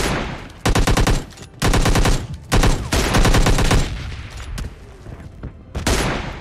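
Bursts of automatic and rapid gunfire in the mobile shooter PUBG Lite, loud and close, several sustained volleys broken by short gaps, with no talk.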